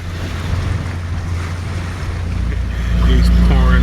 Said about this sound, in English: you're getting passed by a towboat towing a barge and a sailboat